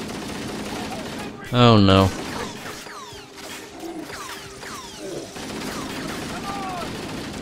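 Needler weapons firing in Halo Combat Evolved Anniversary: a flurry of quick whistling, streaking shots and crackles, with a brief loud burst near the start, under a short spoken exclamation.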